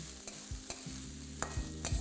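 Moong dal and ginger stirred in a pan, a spatula scraping and knocking in a few distinct strokes over a steady low sizzle, close and fairly quiet.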